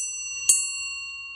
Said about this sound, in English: Now we have the bell back on